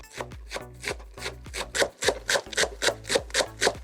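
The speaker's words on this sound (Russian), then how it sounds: "мелко порежу большой пучок зеленого лука" A large bunch of green onions chopped finely with a knife on a board, with quick, close, evenly paced chops at about three per second, loud and alone.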